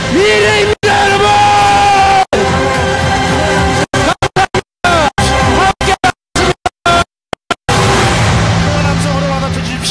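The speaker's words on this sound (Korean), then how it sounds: "함성으로 받아쳐 주십시오." A large crowd at a Korean presidential campaign talk concert for candidate Lee Jae-myung roars with cheers and shouts, loud and dense, broken by several abrupt brief gaps.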